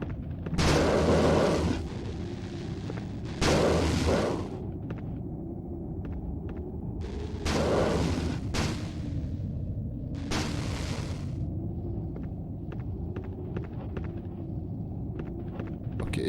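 Weapon fire in the PS1 game Alone in the Dark: The New Nightmare: several loud, booming shots come in separate bursts with quieter gaps and faint clicks, over a low steady game rumble.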